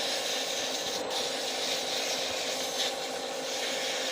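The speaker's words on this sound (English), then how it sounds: "I just want to sand it so the finish is nice on it" Sandpaper rubs by hand against a turned wooden biker-themed pen spinning on a woodturning lathe, a continuous close, even hiss with no pauses over the four seconds.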